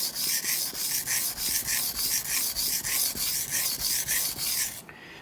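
A double-edged kitchen knife drawn back and forth across a whetstone in steady, rapid rasping strokes, about two per second, close and loud with no talking, ending abruptly.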